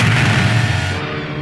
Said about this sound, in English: C-3PO watched as one of the Droid World cannons aimed at them and fired.